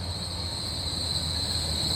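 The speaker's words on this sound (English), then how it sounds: "And this is our first train today, Great Malvern to Paddington." A Great Western Railway Class 800 train on the Great Malvern to Paddington service gives a steady rumble with a sustained high-pitched whine over it, continuous and fairly close.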